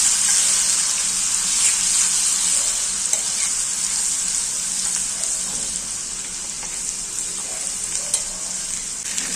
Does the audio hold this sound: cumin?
yes